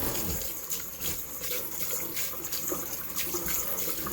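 Cucumbers being washed and swished about in water for a Greek salad, a close, continuous splashing and sloshing with rhythmic surges and no speech.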